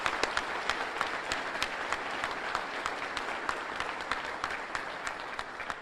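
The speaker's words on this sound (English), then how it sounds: "Please join me in a round of applause." An audience at the Louisiana State of the State address in Monroe applauds Governor Jeff Landry, sustained, even clapping with sharp individual claps standing out across nearly six seconds.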